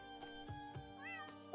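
A cat meows in a video game when petted: a short rising and falling mew over soft, tonal game music, close and clear.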